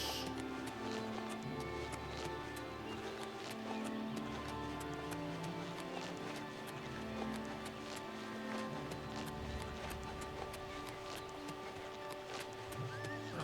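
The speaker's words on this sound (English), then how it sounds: "I hear my horse." Regular clip-clop of horse hooves with a whinny in the game Oblivion Remastered, a quiet steady rhythm of hoofbeats running alongside soft game music.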